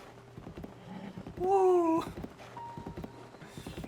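A horse's hooves clop in a steady rhythm in the video game Breath of the Wild, alongside a brief high whinny-like cry and a short exclaimed voice.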